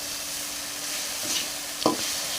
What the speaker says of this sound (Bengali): চাউমিনগুলো এর মধ্যে দিয়ে ভালো করে নাড়াচাড়া দিয়ে নিতে হবে